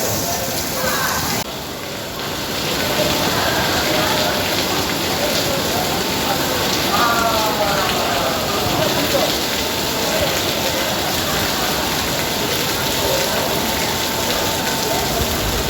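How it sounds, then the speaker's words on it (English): Water leaking from the ceiling like rain inside airport Terminal 1C during ongoing operations, a steady broadband patter and splash that fills the space continuously, with faint voices and hall noise underneath. "That's how it's raining. It's leaking all over. Even to the counters."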